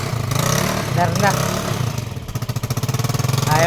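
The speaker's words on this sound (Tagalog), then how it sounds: "Mapandar na natin yung motor na yan" Motorcycle engine running after valve replacement, a close idling putter that turns into a fast, pulsing beat toward the end, mixed with people talking.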